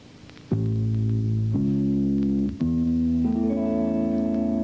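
Guitar notes sounded one after another over a held chord, root then third then fifth, each tone sustained and overlapping with a steady ringing harmony, clear and close with no voices.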